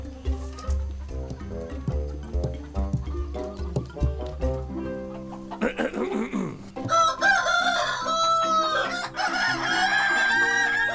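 Over cartoon music, children imitate a rooster's crow with several loud, drawn-out cock-a-doodle-doo calls that rise and fall in pitch.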